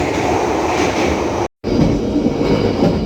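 Argo Wilis passenger train running on double track, a loud continuous rumble of wheels and carriage noise heard from onboard, broken by one brief gap of silence midway.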